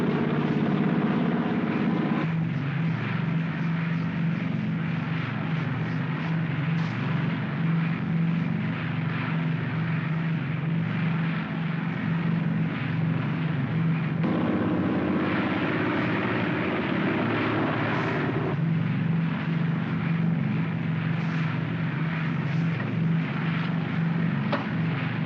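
A propeller aircraft approaching on a landing glide path, heard as a steady, moderately loud drone with slight swells in pitch and level throughout, with no voices over it.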